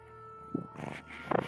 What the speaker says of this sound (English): the door opens and I hear a feline purring